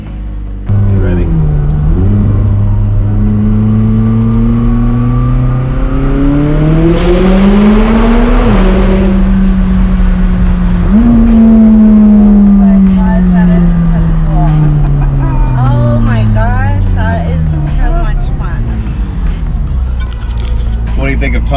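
A race car accelerates hard through a tunnel, its engine revving up and down in repeated loud, rising and falling surges that echo, with people talking over it.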